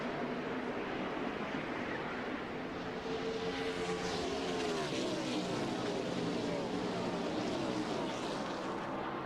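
NASCAR stock cars race in the 2001 MBNA Cal Ripken, Jr. 400, a loud, unbroken engine roar from the passing pack that swells and shifts without pause.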